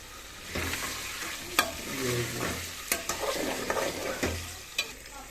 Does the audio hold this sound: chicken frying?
yes